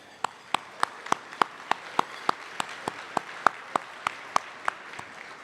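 At a leadership luncheon, sparse claps ring out one after another in a steady, evenly spaced beat, sharp and distinct against a quiet room, honoring contest winners.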